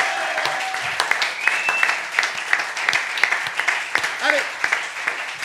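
Audience applause at a French comedy show, a dense steady patter of clapping with a voice calling out briefly over it.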